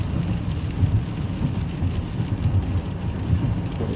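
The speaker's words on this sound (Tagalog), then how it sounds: "Ulan na. Ulan na." Steady rain falls in a continuous broadband wash, with low rumbling that could be distant thunder mixed in. No voices are heard.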